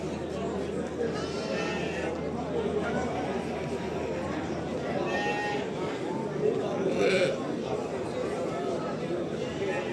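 Sheep and lambs bleat at a livestock market in Ganja, scattered calls rising over a busy crowd with people chatting nearby throughout.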